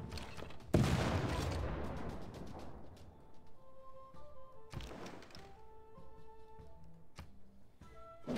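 Gunfire from a ranged unit attack in Civilization VI: one loud, sharp volley bursts out near the start and decays over a couple of seconds, followed by a softer second burst and quieter game sounds and tones, with no talking.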